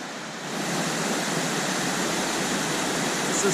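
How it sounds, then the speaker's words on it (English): Cascade Falls on the North Inlet Trail in Rocky Mountain National Park pours in a steady, full rushing roar of falling water that fills the whole soundscape without a break. "This is Cascade Falls on the North Inlet Trail."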